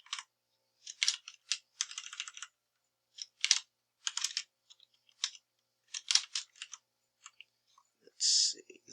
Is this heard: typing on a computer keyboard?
yes